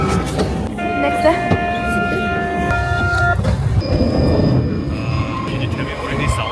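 An old-style Paris metro train running underground, with sustained high metallic wheel squeal and tonal whine over a rumbling rattle, loud and close from inside the carriage while people talk over it.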